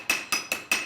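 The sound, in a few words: blacksmiths hammering metal at a forge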